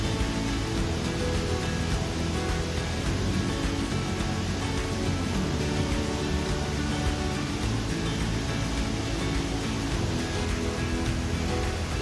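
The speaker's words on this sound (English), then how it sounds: "you can go right up to the falls and even go behind the curtain of water" A waterfall heard from behind its falling curtain of water on a hike in the Brecon Beacons, a dense, steady roar of rushing water that fills the whole clip, loud and unbroken, with no voices.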